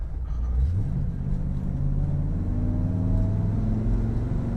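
A 1964 Chevy engine growls loudly and steadily, its pitch climbing as the driver winds out a gear before shifting, heard up close from inside the car.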